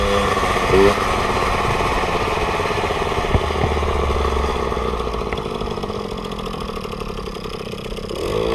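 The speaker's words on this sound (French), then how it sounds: "Je crois que mon pot Doppler commence à se dévisser un peu au cylindre." A Peugeot 103 SPX moped with a Doppler exhaust that is loosening at the cylinder idles and revs with a loud, buzzing two-stroke clatter close by, holding steady for several seconds before easing slightly near the end.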